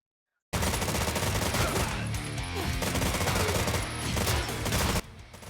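Rapid gunfire from the retro run-and-gun game Terminator 2D: No Fate, a dense, loud burst of machine-gun fire and blasts that starts abruptly and continues for about four and a half seconds before dropping to a quieter tail.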